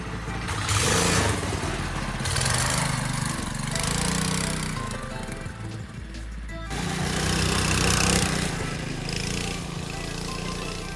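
A go-kart with a 196cc motor races nearby, its small engine loud and buzzing as it revs up and eases off in repeated surges.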